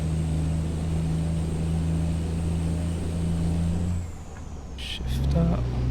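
A Peterbilt cabover truck engine in American Truck Simulator drones at steady revs, then drops away and rises again as the truck shifts up. There is a brief hiss of air near the end.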